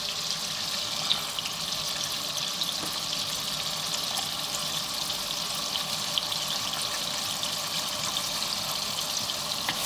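Chopped onion sizzles in melted butter in a pan as a steady, even frying hiss that holds at moderate loudness throughout.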